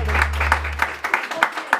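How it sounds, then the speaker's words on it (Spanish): Applause at a birthday party with a mariachi band, a short stretch of uneven clapping from a small gathering, fairly close, following a low held tone that fades out early. "Y ese aplauso bien fuerte."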